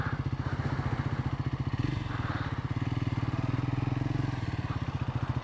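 A Triumph 400 motorcycle, a Scrambler 400 X or Speed 400, runs underway with a steady, rapid engine pulse that dips briefly mid-ride before picking up again, close and continuous with light mechanical clatter.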